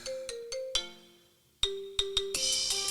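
A phone plays a ringtone version of a song: a short plucky melody of bright, separate notes, clear and close, with a brief pause before the tune resumes and builds.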